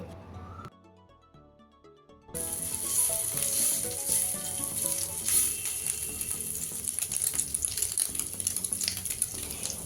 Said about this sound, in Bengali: অন্য একটা ফ্রাইং প্যানে অল্প ঘি দিয়ে তাতে টুকরো করে কেটে রাখা পনিরগুলো হালকা লাল করে ভেজে তুলে নেব